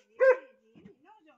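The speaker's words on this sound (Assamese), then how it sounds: "আমাক চিনি নাই পোৱা যে সেইকাৰণে ইমান ভুকিছে" Pet dog barking at strangers outside a house under construction in Lakhimpur district, Assam: one sharp, close bark followed by a couple of faint, softer yips.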